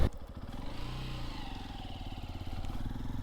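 Honda XR150L motorcycle ridden in cold weather, its single-cylinder engine thrumming steadily and close with a throbbing, even rhythm and wind rush throughout.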